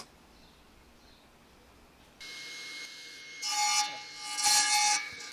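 A hand saw cuts new wooden stringers for a vintage drying rack. The quiet start gives way at about two seconds to broadband rasping strokes that build louder and stronger toward the end, with no talk.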